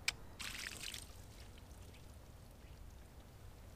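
A carp caught on the Elbe river is let back into the water at dawn, a short burst of splashing and pouring water close by, then quiet river ambience.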